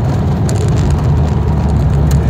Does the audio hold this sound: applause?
no